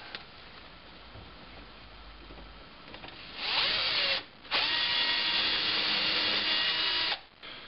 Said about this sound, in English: Next, I'm going to countersink these holes.